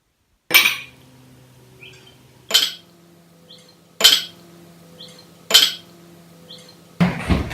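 Glasses clinking in a toast over rum shots at a wedding, four sharp ringing chinks spaced about two seconds apart, each with a short bright decay, followed by a final rattle of glassware.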